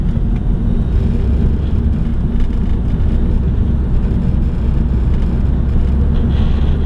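Road traffic rumbles continuously nearby, a dense low steady roar of cars passing, with no distinct individual vehicles standing out.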